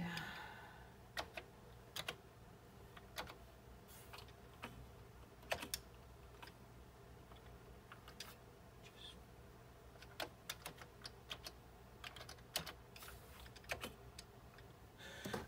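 Fingers tap on a Commodore 64 computer keyboard in an uneven run of close, clicky keystrokes spread across the whole stretch over a steady low hum.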